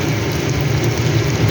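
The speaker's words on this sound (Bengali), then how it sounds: "মশলাটা ভেজে ফিরছি।" Spice paste (masala) for chicken kosha frying in a pan makes a steady, close, dense sizzle with no pauses and no talking.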